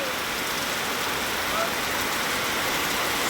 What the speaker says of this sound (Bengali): আর দেখো প্রচুর বৃষ্টি, প্রচুর প্রচুর।